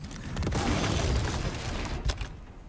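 A loud, booming shotgun blast in the video game Resident Evil 4, with a long rumbling decay, followed by a second sharp crack near the end.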